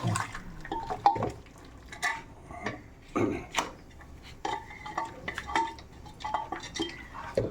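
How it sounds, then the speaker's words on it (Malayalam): Cooked beef with its broth is poured into a beef kurma gravy in a pan, with clinks of a metal vessel and utensils, splashing, and scraping in irregular bursts close by. "നമ്മൾ വേവിച്ച് വെച്ചിരിക്കുന്ന വേവിച്ച് വെച്ചിരിക്കുന്ന ഇറച്ചി അതിന്റെ വെള്ളത്തോടെ തന്നെ നമുക്ക് ഇതിലോട്ട് ഒഴിച്ചു കൊടുക്കാം"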